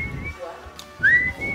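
A person whistles a short melodic phrase, clear and close, with a rising sliding note near the end and soft background noise underneath.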